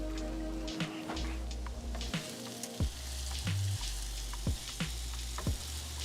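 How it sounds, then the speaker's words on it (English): Steak and vegetables sizzle in a hot pan for fajitas, a steady frying hiss broken by sharp pops and crackles, close and fairly quiet. "But you can hear the sizzle. It already tells you it's a fajita."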